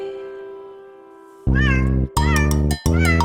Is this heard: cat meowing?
yes